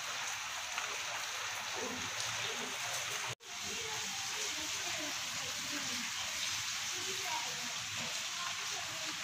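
Steady early-morning rain falls outside, making a continuous, even hiss heard at moderate distance, broken only by one brief dropout partway through.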